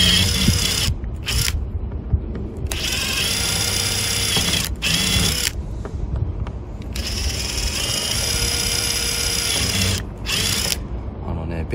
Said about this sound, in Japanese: ちょっとドリルでいきまーす